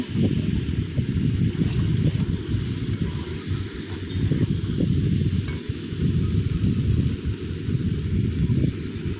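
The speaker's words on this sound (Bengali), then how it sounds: "দিয়ে ভালো করে আবারও আমি কষিয়ে নিচ্ছি।" Prawn masala sizzles in a pan as it is sautéed and stirred, a steady frying hiss broken by soft scraping strokes of the spoon at irregular intervals.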